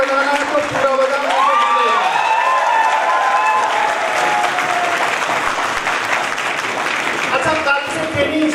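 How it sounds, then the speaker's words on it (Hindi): An audience at a training session claps loudly and continuously while a speaker's voice carries over the top, the clapping holding steady for the full stretch. "देखो, ताली बजाना है तो पूरा बजाना।"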